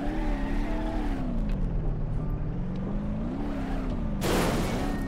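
A car engine in BeamNG.drive hums and drones steadily while driving, with its pitch rising and falling gently and a brief burst of hiss or rushing noise near the end.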